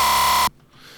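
A dubstep bass sample, time-stretched in warp mode, blares as a loud, dense, buzzing synthetic tone for half a second, then cuts off abruptly into a faint, hissy residual tail.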